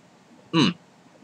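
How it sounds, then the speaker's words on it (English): A man gives one sharp, abrupt hiccup close to the microphone after eating a Carolina Reaper chile pepper, a single short voiced burst amid quiet. "More hiccups there."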